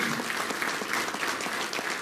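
An audience claps at an award ceremony in Ahmednagar, a dense, even burst of applause filling the room without a break.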